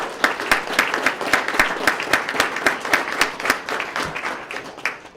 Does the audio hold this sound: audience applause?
yes